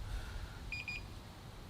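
An iSinwheel S9 Pro electric scooter gives a short run of four quick, faint high-pitched beeps over a low background hum.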